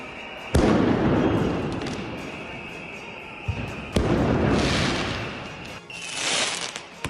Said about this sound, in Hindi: प्रदर्शनकारियों ने फायरवर्क्स के जरिए, आतिशबाजी के जरिए हमला बोल दिया है